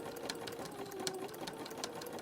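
A zigzag sewing machine stitches through fabric-wrapped rope, giving a fast, steady mechanical whir with rapid needle clatter running throughout, close and alone with no voices.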